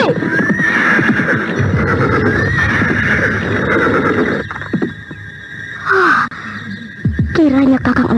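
A horse gives a long, loud whinny up close while hooves clip-clop beneath it, followed by a pause, a short snort and further neighing, with a faint voice briefly in the mix.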